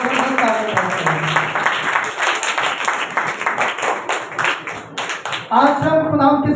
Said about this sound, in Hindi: जोरदार तालियां लगाएं।